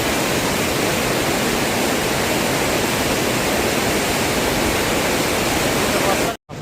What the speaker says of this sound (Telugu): వాటర్ ఫ్లో అక్కడ మామూలుగా లేదు.